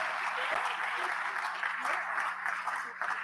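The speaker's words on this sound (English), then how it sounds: "Je vous demande de les applaudir tout de suite" An audience applauds two young portrait artists at a tech incubator event in Haiti, with dense, steady clapping throughout and voices mixed in.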